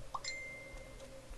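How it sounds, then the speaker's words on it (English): A phone notification ding rings once, a short bright chime with a clear ringing tail that fades quietly against a low background hum. "if you hear the ding, I'm sorry"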